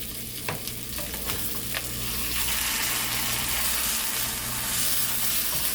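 Salmon steaks fry in a pan with a steady, close sizzle that swells louder partway through, broken by a few sharp clinks early on, and no voices.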